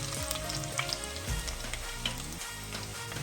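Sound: chopped ginger frying in a pan

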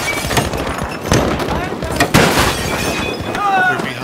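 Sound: gunfire in the video game Battlefield 5

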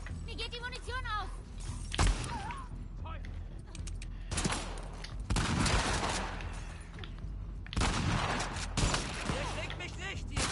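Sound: gunfire in video game The Last of Us 2

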